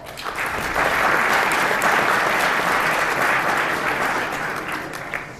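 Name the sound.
applause at a banquet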